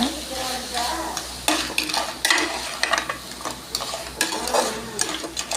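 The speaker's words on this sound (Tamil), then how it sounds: "நண்டை ஆட் பண்ண பிறகு அதையும் நல்லா வதக்கிக்கோங்க" Crab sautés with spicy masala in a pan: a spoon stirs and scrapes repeatedly against the metal over a steady, moderate sizzle, close and clear, with no talking.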